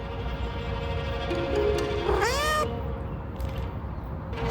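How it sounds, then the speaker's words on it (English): A feral cat in a garden gives a drawn-out, rising and falling meow, moderately close, over a steady background hum, with a faint shorter cry near the end and no talking. "These are wild cats in my mother's garden."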